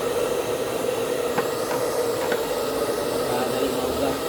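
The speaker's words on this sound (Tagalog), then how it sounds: "i-blower na lang ako diretso" A steady, loud hiss of an air blower running continuously during repair work on an Osterizer blender, with a few faint clicks over the constant rush of air.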